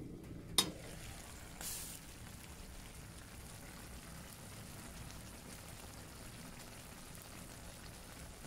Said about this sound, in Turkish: Çok güzel kaynıyor, pişiyor.